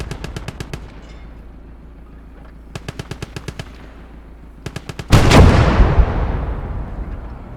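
Rapid machine-gun bursts in the war game Call to Arms: Gate of Hell, fired in three quick rattling strings, followed by a heavy blast whose roar trails off over several seconds.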